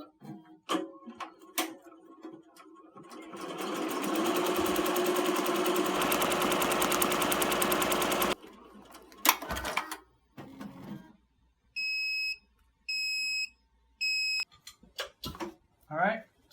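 A Ricoma embroidery machine on a robot frame stitches a design onto a shoe with a rapid, steady mechanical chatter for several seconds. Scattered clicks come before it, and a series of short electronic beeps follows.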